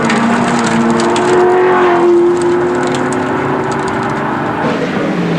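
Race car engine at the 1987 Bathurst 1000, a loud sustained drone with a steady pitch that shifts slightly as the car passes, no talk over it.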